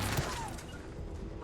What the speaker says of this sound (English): Why does the turret only shoot at me?